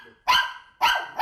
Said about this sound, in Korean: 내려놓자마자 다시 짖기 시작하는 녀석.